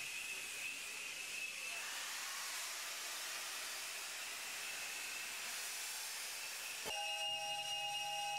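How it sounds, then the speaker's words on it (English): Steam locomotive on the Mombasa–Voi line in Kenya, running a safari steam service: a steady, fairly quiet hiss of escaping steam continues throughout, then a sustained whistle tone comes in near the end. "who experience for the first time the shrills of steam and all the other noises, smells and mechanical clatter that make up the magic of steam locomotion"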